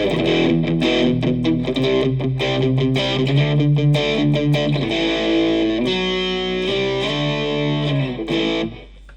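Heavily distorted electric guitar chords through a Marshall-style amp sound ring out loud and continuous, crunchy and saturated, then cut off abruptly near the end.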